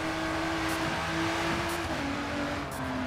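A race car drifts into a corner in GRID 2 at night, its engine droning steadily with shifting pitch and faint tire scrub throughout, no voices.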